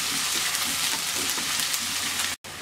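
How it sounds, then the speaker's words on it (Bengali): Three medium chopped onions fry lightly in oil with cumin, giving a close, steady sizzling crackle that holds level until a momentary break near the end. "পেঁয়াজটাকে হালকা ভেজে নেব"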